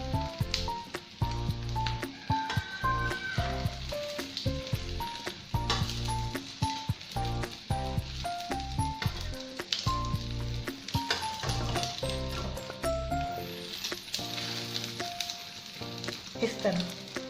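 Egg batter for a Japanese rolled omelette (tamagoyaki) sizzling in a pan as it is folded, the frying loud and continuous under steady background music.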